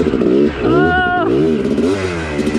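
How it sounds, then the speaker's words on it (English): A vehicle spins a donut on a hidden turn track, its engine revving and whining in a rising and falling sweep as it turns, with excited voices shouting over the noise. "We spun a donut right there."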